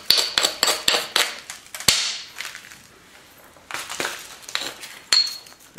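Sharp stone-on-stone clicks and ringing taps as flakes are struck from a thin stone biface during knapping, irregular bursts of close, crisp strikes separated by brief quiet spells.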